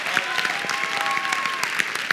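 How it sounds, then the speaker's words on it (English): Audience clapping welcomes a young guest speaker at an email marketing event, dense applause with a few louder individual claps standing out and a faint tonal hum underneath. "let's give him a nice big round of applause and cheerful welcome"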